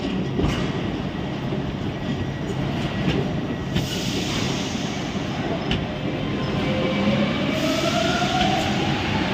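Paris metro train running, a continuous loud rumble of wheels on rail with faint clicks and a rising squeal, close and steady throughout.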